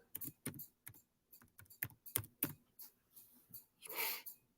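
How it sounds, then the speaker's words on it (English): Typing on a computer keyboard while making a banner: irregular bursts of sharp, close key clicks with short pauses between runs, fairly quiet, with no talk. "I'm typing."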